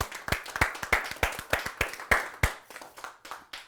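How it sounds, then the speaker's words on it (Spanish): A church congregation claps in praise, sharp individual claps close by in a loose, irregular rhythm, loud at first and thinning toward the end. "Pues un aplauso al Señor si lo recibiste."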